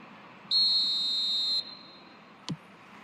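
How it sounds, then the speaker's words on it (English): Referee's whistle in the eFootball football video game, one long steady blast of about a second with a short sharp tone following, heard over a quiet crowd bed and with no talk. "There's the whistle, and here we go."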